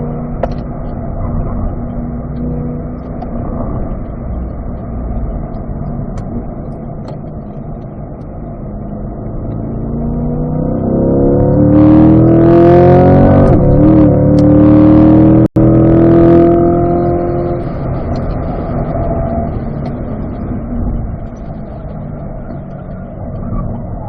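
Cars run laps on a road course, with engine noise holding steady, then swelling loudly as a car passes close with a rising and falling whine before fading back to a steady drone.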